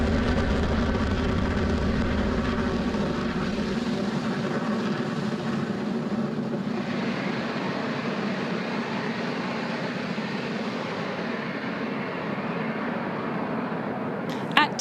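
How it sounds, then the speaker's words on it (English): A SpaceX Falcon 9 rocket climbs away after liftoff from Space Launch Complex 40 at Cape Canaveral, a broad continuous rumbling roar that slowly fades and thins over several seconds. "Falcon 9 has successfully lifted off from Space Launch Complex 40 at Cape Canaveral Space Force Station"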